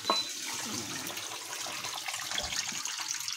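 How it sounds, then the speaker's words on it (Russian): Pressurized water sprays steadily inside an open Samsung dishwasher under repair for a water supply pipe, driving the spray arms with a continuous rushing, splashing hiss at close range. "вот эти пропеллеры крутятся от воды под напором вот так вот"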